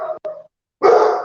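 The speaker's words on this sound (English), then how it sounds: "the Chihuahua's barking" A Chihuahua at home barks close and loud: two short yaps, a pause, then a longer, harsher bark, with no voices over them.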